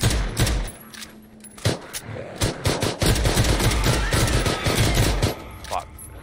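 Rapid automatic gunfire in PUBG's zombie mode at the Steel Mill, bursts of shots cracking close and loud across the whole stretch, with a voice briefly heard among them.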